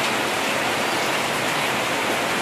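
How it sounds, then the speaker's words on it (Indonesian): Steady heavy rain pours down in a continuous dense hiss, loud and close, with no voices. "Nah, hari hujan."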